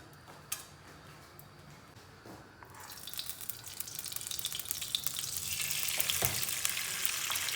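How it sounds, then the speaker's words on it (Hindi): Green cardamom seeds cooking in ghee over medium-high heat: quiet at first, then a bright crackling sizzle swells up and keeps building into a dense, steady fry. "इलायची को मैं 1 से 2 मिनट तक पकाऊंगी"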